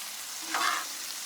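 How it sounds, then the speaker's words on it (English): Sausages and bacon cooking on a flat iron griddle, giving a faint continuous sizzle with one brief, slightly louder surge, heard alone without talk. "Give all of our sausages a flip. And we got our first flip on our bacon."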